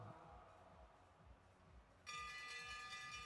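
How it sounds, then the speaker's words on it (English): A bell clangs at a bike race to signal the final lap, starting abruptly and ringing on continuously as a bright sustained tone over faint background noise. "Here comes the bell."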